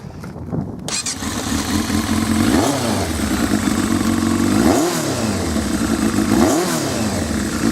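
A Yamaha Fazer 600 motorcycle engine, at about 22,000 miles, catches after a brief quiet start and idles loudly nearby, rising in three distinct throttle revs that swell and fall back to a steady rumble.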